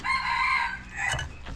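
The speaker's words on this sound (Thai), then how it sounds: "ไก่มันจะเข้าคืน" Chickens on a rural farm, a close rooster crow followed by a few short clucks, loud and clear with no talking.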